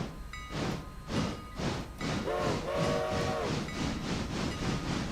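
A locomotive in the Railroader video game pulls away with rhythmic chuffing beats, and a whistle-like tone sounds midway through.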